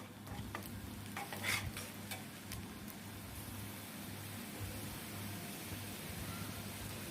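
Whole cumin seeds sizzle steadily in hot oil while preparing a hilsa fish dish, a continuous soft crackling hiss with a few brief sharper pops near the start, fairly quiet and unbroken by talk.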